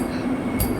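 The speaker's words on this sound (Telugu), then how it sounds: "7కి అయితే వందే భారత్ ట్రైన్ అయితే వచ్చేసిందండి" A Vande Bharat train pulls into Renigunta station with a loud, steady rail rumble and wheel noise, heard close for under a second.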